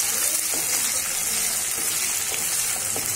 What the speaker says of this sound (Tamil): பச்சை மிளகாய் வந்து சின்ன சின்ன பீசஸா வெட்டி வச்சோம்ல அதையும் அதோட சேர்த்து ஃப்ரை பண்ணுங்க